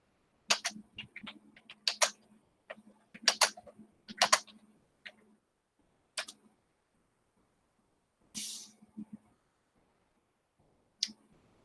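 Typing on a computer keyboard to enter a news search, with quick bursts of clicking keystrokes, a few pauses between groups and isolated final taps, close and alone without speech.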